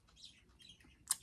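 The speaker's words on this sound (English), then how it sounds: "And I know you guys can hear my birds in the background as usual." Pet birds chirp indoors in the background, a few faint scattered tweets with one brighter, sharper call near the end.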